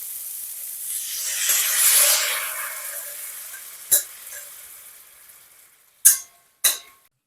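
Potato and bitter gourd stir-fried in a pan: a broad hiss of sizzling swells and fades, followed by a few sharp scraping clacks of the spatula against the pan near the end.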